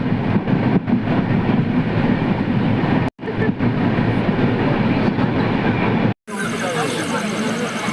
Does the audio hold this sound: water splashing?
no